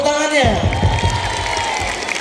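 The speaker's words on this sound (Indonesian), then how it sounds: "Tepuk tangannya" An audience claps at a school ceremony honouring a second-place individual poomsae winner. The applause is a crackling wash under a loud amplified voice and tonal sound, close and continuous throughout.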